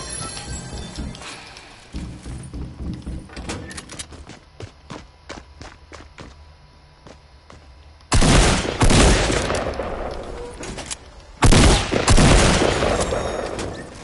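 Shotgun fire rings out in a video game match, with a run of quick sharp shots and footsteps, then two loud, sustained bursts of blasts near the end.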